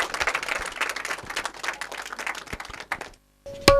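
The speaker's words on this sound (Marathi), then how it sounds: "एकदा जोरदार टाळ्या वाजवूयात" An audience applauding at a tabla jugalbandi concert: a burst of dense clapping that thins out and fades within a few seconds, followed by a short pause and a sharp tone at the end.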